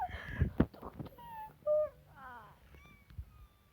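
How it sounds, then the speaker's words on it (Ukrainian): A cat meows several times in the video game Minecraft, short rising and falling calls spaced apart, with clicks and brief game noises around them. "Кіт? Що це було?"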